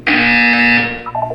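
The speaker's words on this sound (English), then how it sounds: "You will hear a buzzer." A loud, steady electronic buzzer tone in Portal 2 sounds for about a second, then fades into a softer warbling tail, with no voices over it.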